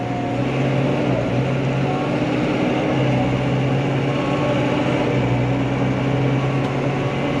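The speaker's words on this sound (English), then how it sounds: "Old engine's pulling well, not particularly noisy." A four-cylinder engine on a New Holland T5 Dynamic Command tractor pulling a grain cart drones steadily from inside the cab, a continuous even hum with a low tonal rumble and no speech.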